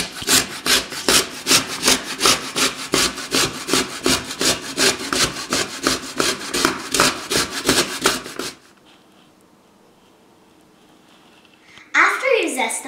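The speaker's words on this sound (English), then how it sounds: "Zest your lemon so you have 1 tablespoon of" A lemon peel is zested on a grater for lemon cookies, giving quick, rhythmic rasping strokes close by for about eight seconds, then a quiet pause and a short burst of scraping at the end.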